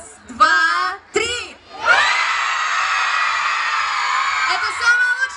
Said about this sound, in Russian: Ребята, мы очень громко сейчас кричим.